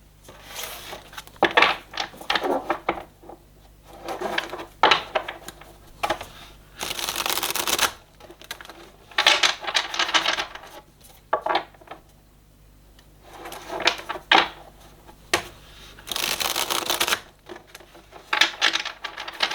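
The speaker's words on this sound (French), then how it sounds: "Allez, on va aller recouvrir les cartes." Tarot cards being gathered up and covered on a table, giving repeated bursts of dry papery shuffling and sliding with short quiet gaps between them, close and fairly loud.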